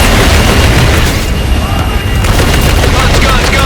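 An aircraft gun run in Call of Duty Infinite Warfare rains down continuous, loud booms and rapid cannon fire, a thick unbroken barrage of explosions and bursts with no pauses.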